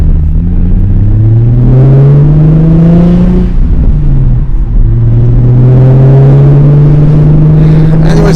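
A Nissan 350Z with a newly replaced fuel pump runs loud and close, its engine humming steadily through two long, smooth rises in pitch separated by a brief dip.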